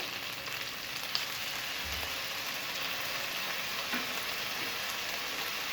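Chicken and vegetables fry in a pan with soy sauce, giving a dense, continuous sizzle up close with faint stirring taps, no talking.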